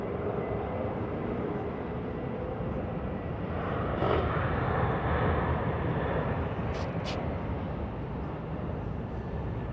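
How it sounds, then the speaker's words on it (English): A distant airplane drones steadily as it approaches to land at LAX, a low continuous engine rumble that swells slightly midway, with a few brief high tones near the end. "That's our plane coming in right there."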